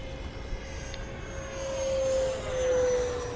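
A Freewing Mirage 2000 RC jet flying on its maiden flight, with a steady electric ducted-fan whine and a sustained tone that swells louder as it passes closer, over outdoor background noise.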